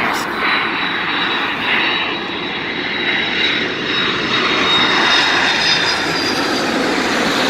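Boeing 747-400 freighter, a Kalitta Cargo 744BCF, with its four jet engines roaring loud and steady close by, a broad continuous rumble with a thin high whine running through it.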